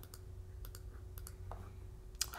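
Computer mouse clicks on a desk while working in Cricut Design Space, a few sharp isolated clicks spaced irregularly over a low steady hum, with one louder click near the end.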